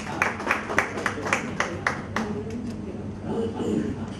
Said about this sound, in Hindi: तालियों से स्वागत कीजिए उनका।